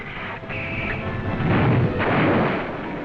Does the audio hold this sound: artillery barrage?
yes